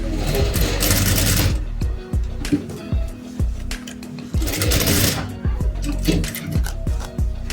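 A sewing machine stitches bra cups onto a blouse lining, its rapid mechanical clatter running in close, loud bursts separated by short pauses, with no speech.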